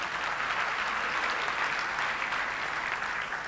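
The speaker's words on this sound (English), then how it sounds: "Let's give them a round of applause." Sustained audience applause at a corporate awards ceremony, a dense, even wash of many hands clapping that holds steady from start to finish with no voices over it.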